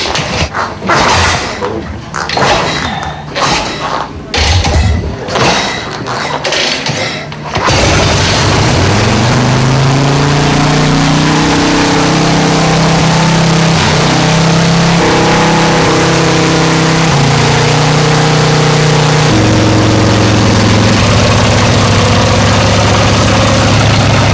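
Custom-built motorcycle engine, after a few rough cranking bursts, catches and settles into a loud, steady low rumble with shifting revs, close by and with no voices over it.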